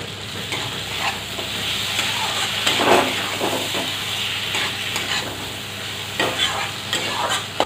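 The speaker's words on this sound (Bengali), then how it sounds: "এবার আমি পোস্ত আর চাল মগজ বাটাটা দিয়ে দিচ্ছি।" Poppy seed and melon seed paste fries with spices in hot oil for a banana flower gravy, a steady loud sizzle and hiss with scraping stirs on top and occasional quiet speech.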